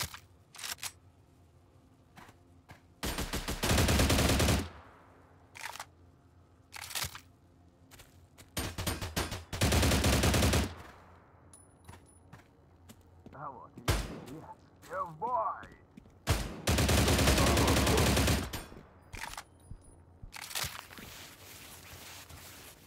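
Gunfire from a weapon in Stalcraft X, heard in a crowded underground area: several long, loud automatic bursts broken by single shots, with quieter gaps between them where footsteps and faint clatter sound.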